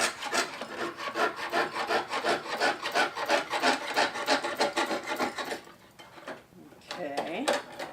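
A jeweler's saw in an old frame cuts wood around the outline of a letter, with quick, even rasping strokes that slow and break off near the end.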